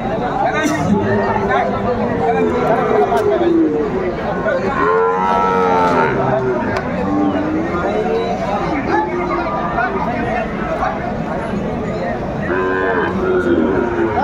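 Sahiwal bull calves and cattle low and moo repeatedly at a busy livestock market, loud and close, with crowd chatter and talking throughout.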